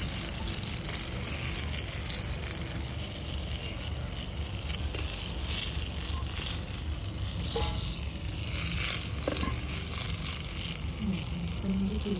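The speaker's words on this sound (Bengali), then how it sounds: "এই বেগুনগুলো না বেশি ভাজতেও হয় না, অল্প একটু ভাজলেই পুরো হয়ে যাবে।" Slices of white eggplant frying in a pan give a steady, close sizzle that runs the whole time, with no voices.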